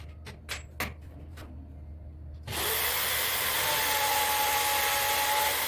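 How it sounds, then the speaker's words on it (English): Power drill boring mounting holes in a propane tank holder, starting with a few sharp knocks and taps, then a loud continuous drilling whine that runs steadily to the end. "I'm drilling mountain holes right here so I can bolt it to the trailer"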